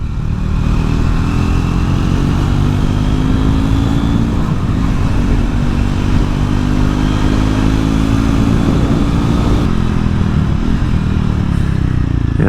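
A Triumph Scrambler 400X motorcycle hums along on the road, its single-cylinder engine droning steadily with rushing wind noise, a slight shift in tone near the end, loud and continuous with no talking.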